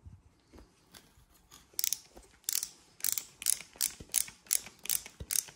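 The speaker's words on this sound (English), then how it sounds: "So we're going to start by pushing the screwdriver through the rubber." Small metal screwdriver working Phillips screws out through the rubber recoil pad of a Remington 870 stock, giving a run of close, crisp ratcheting clicks in regular bursts over the second half, with no talking.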